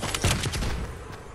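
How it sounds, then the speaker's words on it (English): Rapid bursts of gunfire erupt in a Fortnite match, a short dense volley of shots at close range. "Why are you shooting at me for, Daniel?"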